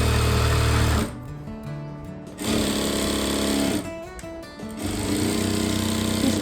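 A sewing machine stitches a plain blouse in loud, close bursts of rapid rhythmic clatter, pausing briefly twice between runs.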